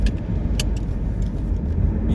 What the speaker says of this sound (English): you can hear my car going off.